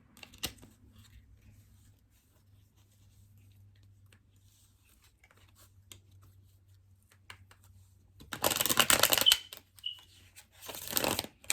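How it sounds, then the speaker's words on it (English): Two short bursts of tarot cards being shuffled, riffling crisply near the end after a long quiet stretch with faint handling noise. "I'm going to shuffle up some tarot."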